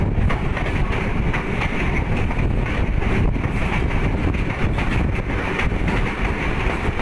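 A 6DN PDK shuttle train approaching Haranpur railway station gives a steady, loud, close rumble of wheels on track with rushing wind noise, continuous and even throughout with no speech.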